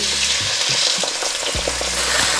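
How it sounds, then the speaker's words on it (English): Butter and whipped cream cooking in a pan for a creamy salmon pasta sauce, giving a bright continuous sizzle with a few stirring scrapes and knocks, close and loud. "I'm just adding in a little bit of butter. So I'm adding in whipped cream."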